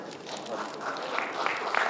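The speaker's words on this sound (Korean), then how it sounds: "여러분 다시 한번 큰 박수 부탁드립니다" Steady clapping from an audience at a Korean specialty construction association's annual general meeting awards ceremony, a sustained wash of applause with a faint voice beneath.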